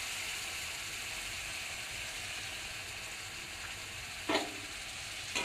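Shrimp curry frying in a pan as ground coriander, cumin and turmeric paste go in, a steady soft sizzle with a brief louder burst of spitting near the end.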